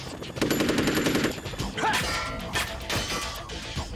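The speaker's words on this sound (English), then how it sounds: "Oh, just swatting those bullets out the way." In Metal Gear Solid 2, a rapid burst of gunfire is swatted aside by a sword, a fast rattling stream of shots followed by sharp metallic clangs and swishes, loud and close with game music underneath.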